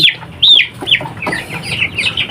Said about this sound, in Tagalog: Lalagay po natin ang ating mga manok